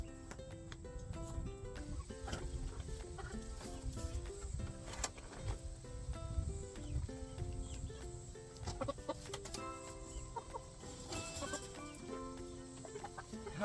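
Backyard chickens clucking nearby in a steady stream of short, repeated calls that overlap and keep going throughout.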